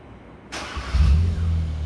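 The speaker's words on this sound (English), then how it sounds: "In a few seconds, the car will start." A 2019 Hyundai Veloster with a push-button start and manual transmission starts up through a Compustar remote start. There is a brief click and whir, then the engine catches and settles into a steady low idle close by.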